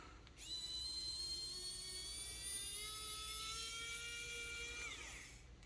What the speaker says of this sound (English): I prefer the electric screwdriver because of my arthritis